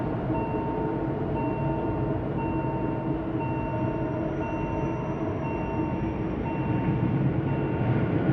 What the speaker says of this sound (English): the train takes to the correct side of the road through Le Prese